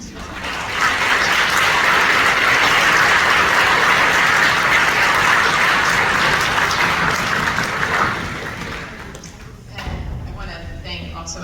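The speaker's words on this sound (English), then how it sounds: "So I just want to give another round of applause" Audience applause at a school spring concert by a junior wind ensemble, a dense sustained round of clapping lasting about eight seconds before tapering off, followed by a few quieter sounds.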